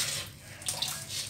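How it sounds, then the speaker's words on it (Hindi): Water splashes steadily into a cooking pot of bitter gourd curry for a brief moment, a close, hissing stream with no talking. "हम इसमें पानी ऐड करेंगे हल्की हल्की गाढ़ी ग्रेवी बनाने के लिए"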